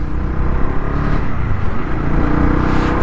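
Honda CB300R BS6 2022 motorcycle accelerating on the road, a loud close engine growl rising in pitch with a slight clatter, over a few seconds.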